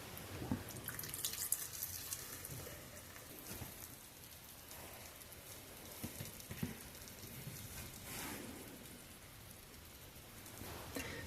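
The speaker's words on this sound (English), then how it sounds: "Pour some sauce over it." Sauce poured over baked cod with lemon and vegetables, a soft, continuous liquid splashing and patter with faint clatter, low in level, no talking.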